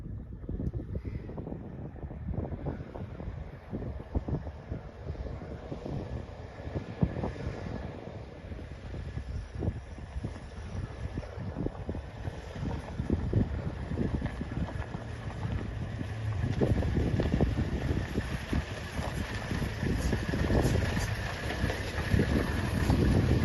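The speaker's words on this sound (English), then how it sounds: "recorded this video so that you could see how rough it was for us driving across the desert" Land Cruiser bouncing over rough desert terrain in Kenya, a steady rumbling drive with constant rattling knocks and wind buffeting, growing louder toward the end.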